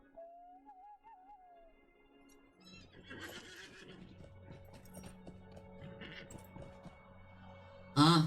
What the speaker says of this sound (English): we might as well get on a horse